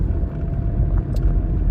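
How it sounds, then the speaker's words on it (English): Steady morning street traffic in Merida, a continuous low rumble of passing cars close by with no clear pauses, with no one speaking. "It's about 8 o'clock in the morning, so there's a little more traffic out as people prepare to go to work"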